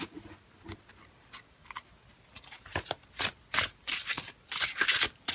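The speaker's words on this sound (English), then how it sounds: "It's a nice smooth shuffle to them." A tarot card deck is shuffled close up, making crisp, papery riffling bursts that come faster and louder toward the end, with faint scattered clicks earlier and no talking.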